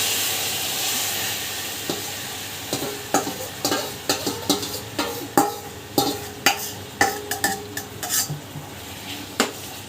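Marinated mutton for a biryani hits a hot pan with a steady sizzle, while a spoon scrapes and clatters against the pan in a series of sharp, regular knocks that grow busier toward the end.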